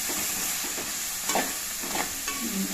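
Green chilies sauté in a hot pan of oil for a spicy mackerel curry, giving a steady close sizzle and hiss with a few soft stirring scrapes and no voices.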